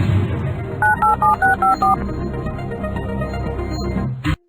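Touch-tone keypad dialing on a game show phone lifeline: a quick run of about six evenly spaced beeps, loud and clear over low studio background hum, ending with a brief thump.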